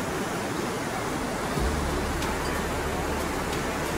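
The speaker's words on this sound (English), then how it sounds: "Look at the white water coming down the mountains." White water rushing down the mountains near Lauterbrunnen, Switzerland, a dense, steady roar of falling water filling the whole clip with no pauses.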